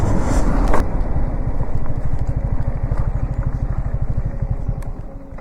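A Yamaha MT-15 motorcycle rides along a road near a small underpass in Moradabad. Its engine gives a steady, loud, rhythmic low thrum with wind rush over it, and no talking is heard.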